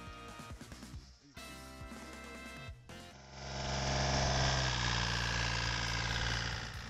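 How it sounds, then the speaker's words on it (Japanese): A tractor drives across a farm field laying plastic mulch for pumpkin planting, its engine a steady mid-pitched drone that swells louder and rougher partway through, running continuously with no talk. "トラクターで畑にマルチを張っていきます。"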